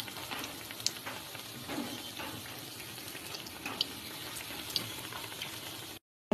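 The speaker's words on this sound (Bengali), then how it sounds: "বেগনি ভাজা হচ্ছে খিচুড়ির সাথে বেগনি।" Eggplant fritters (beguni) fry in hot oil in a home kitchen, a faint, steady crackling sizzle with scattered small pops that continues unbroken until it cuts off abruptly.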